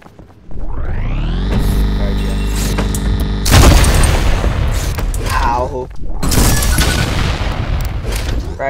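Primary-fire weapon shots in the video game Ultrakill, loud booming bursts and crackling blasts layered over a rising synthetic tone and thick, dense game noise.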